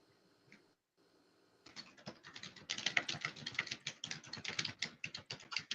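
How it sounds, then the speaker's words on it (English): Rapid clicking of typing on a computer keyboard picks up after a brief quiet stretch, keystrokes tapping in an irregular, fairly close and steady patter with no talking over it. "You're typing, Boris."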